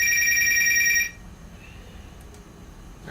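LabVolt telephony trainer equipment rings with a loud, close electronic telephone bell for about a second, then cuts off to quiet line hiss.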